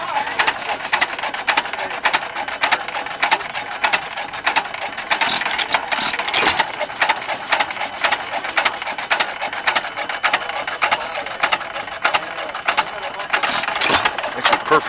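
An antique 1911 farm engine fitted in a 1956 three-speed Willys runs steadily with a busy, rapid mechanical clatter and ticking throughout, close and fairly loud, with some talk over it.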